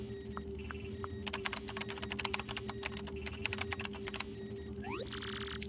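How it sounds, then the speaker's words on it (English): Typing on a keyboard in Paper Mario TTYD plays as quick bursts of crisp clicks over a steady electronic hum, pausing between runs, with a short rising blip near the end. "Use the keyboard to send whatever message you want."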